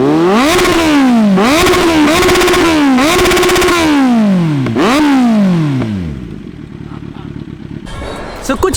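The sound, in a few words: superbike motorcycle engine revving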